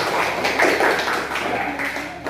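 Classroom applause for a student group, a brief burst of scattered clapping from a class, with voices talking over it.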